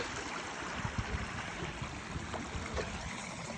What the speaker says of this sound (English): Right next to the brook.